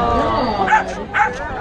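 A protective dog at a dog park event with judges gives two short, sharp barks or yips close by, with people talking over them.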